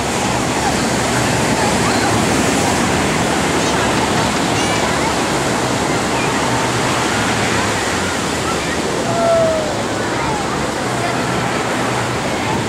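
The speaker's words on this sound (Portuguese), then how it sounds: "A água é gelada o ano inteiro e as ondas são bem grandes" Pacific Ocean waves break at Huntington Beach, a dense, continuous roar of surf and wash that stays loud and steady throughout, with faint voices mixed in under the water.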